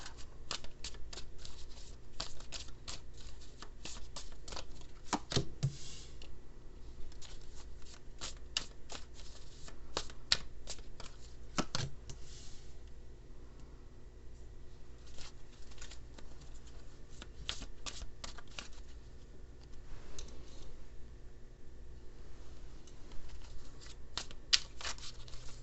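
A new tarot deck gets shuffled close up, with repeated quick riffling and card-slapping bursts running steadily through the whole stretch and no talk.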